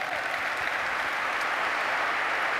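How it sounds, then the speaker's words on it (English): A large keynote audience at a marketing conference breaks into sustained applause, a thick, even roar of many hands clapping that fills the room without pause. "Round of applause for that."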